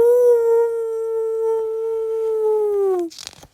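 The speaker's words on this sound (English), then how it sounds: "They all began howling." A single long, steady dog howl sounds loud and close, holding one pitch for about three seconds before dropping away at the end, followed by a short rustle.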